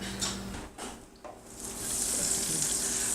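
Butter melts in a hot pan with a soft, rising sizzle. It grows steadier and brighter toward the end, along with a few faint kitchen clatters, and there is no talking.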